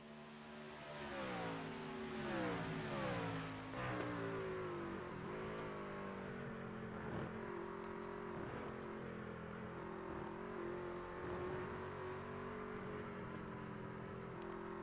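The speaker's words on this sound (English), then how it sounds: "as you hear him working the throttle through the carousel and to the short chute down to turn number 10" Race truck engine in iRacing on the Corning circuit, droning loudly and shifting pitch as the throttle works through corners, with revs rising and falling, alone without voices.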